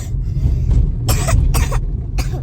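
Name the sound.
little girl coughing in a car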